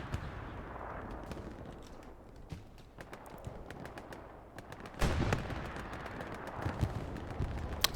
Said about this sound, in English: I don't know where Phoenix artillery is falling, actually.